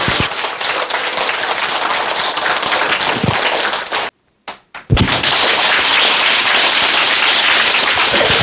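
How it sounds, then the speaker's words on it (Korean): An audience at a Buddhist Sunday dharma service applauds, dense steady clapping that breaks off briefly midway before swelling back up and continuing. "다시 한번 큰 박수 부탁드립니다"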